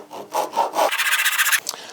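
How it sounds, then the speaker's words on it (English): Pull saw cutting a small piece of wood for a toy automaton cap, a few close rasping strokes followed by a faster, brighter run of sawing. "we want to cut that in the pull saw, with the pull saw"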